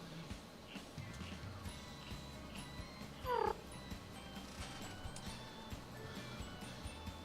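A spirit cat named Puck meows and caterwauls in the Cookie Run Kingdom video game, with one louder rising-falling meow standing out midway over steady game background sound.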